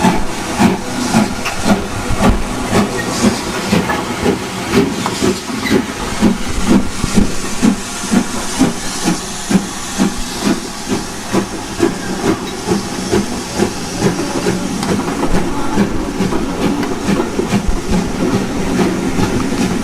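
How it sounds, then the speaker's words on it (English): A former British Railways Class 5 steam locomotive pulls away from a station on a heritage line, loud rhythmic chuffs with hissing steam repeating steadily and close by throughout, no talk. "This is a former British Railways Class 5 engine."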